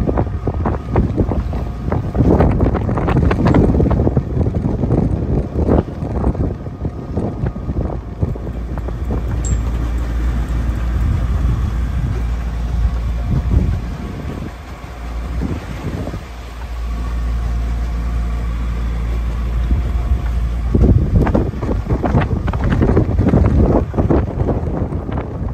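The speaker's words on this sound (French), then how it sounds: "l'entrée avec des grosses rafales. À 29 nœuds." Strong gusts of wind around 29 knots buffet a sailboat entering a bay off Greece, a loud continuous roar of wind across the microphone with water rushing alongside the hull, easing briefly midway before surging again.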